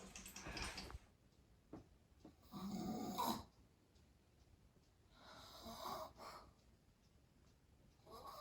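A Great Dane napping on a chair snores in slow, wheezy rhythmic bursts, three or four drawn-out rasping breaths separated by quiet pauses, close and fairly soft indoors.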